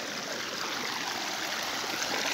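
A clean forest stream flows and rushes steadily and close, a continuous broadband wash of water with no pauses and no voices.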